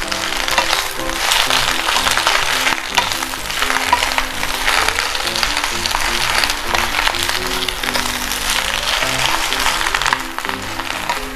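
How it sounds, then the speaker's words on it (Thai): Cabbage and pork stir-fried in a pan make a loud, continuous close-up sizzle with frequent clattering tosses and scrapes of the spatula throughout, and no voices over it. "ผัดกะหล่ำปีให้มันให้มันพอสุกนะครับ"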